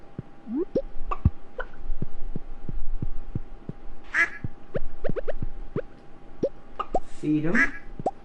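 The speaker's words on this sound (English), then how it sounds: "Talk to all the ducks and the chickens." Ducks and chickens on a Stardew Valley farm: short quacks and clucks around mid-clip and near the end, over a steady run of soft tapping clicks and a faint hum.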